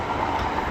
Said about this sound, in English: Sorry about the noise, there is a train going past.